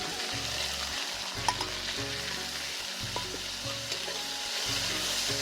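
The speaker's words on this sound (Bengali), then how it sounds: "এবার আমি এর মধ্যে শুকনো লঙ্কা আর জিরে ফোড়ন দিয়ে দেব।" Dried red chillies and cumin seeds crackle and sizzle steadily in hot cooking oil, a continuous close hiss with faint pops and occasional utensil clinks, no voices.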